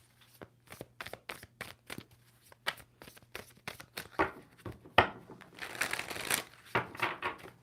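A deck of tarot cards is shuffled in a run of quick, crisp riffles and taps, close and fairly quiet, building into a denser rustling burst toward the end, with only faint talk in the background.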